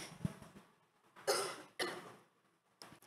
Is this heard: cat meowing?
no